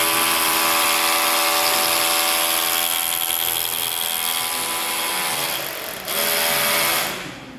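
A Dongcheng DCZC 13 cordless rotary hammer running in hammer mode, a loud, close, steady buzzing whine that dips briefly near the end, surges again, then cuts off.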